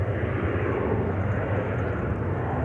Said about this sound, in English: And the Embraer 175 to Genoa is taking off here.